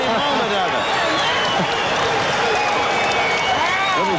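A boxing crowd roars and applauds at the close of round 8 in a 1993 bout, a loud, dense, continuous wall of cheering with a commentator's voice running over it.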